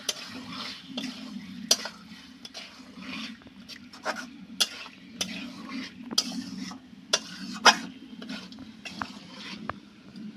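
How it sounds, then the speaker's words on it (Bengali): Meat and spices sizzle in a pan while a utensil stirs them, giving irregular clicks and scrapes over a low, steady frying hiss, fairly close and moderately loud, with no talking. "এরপরে মাংসের সাথে মশলাটাকে ভালো করে কষিয়ে নেব।"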